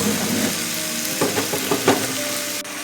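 One kilo of chicken frying in a pan for chicken biryani, a steady, loud hiss of sizzling oil with a few scraping stirs and clinks partway through, close and with no voices.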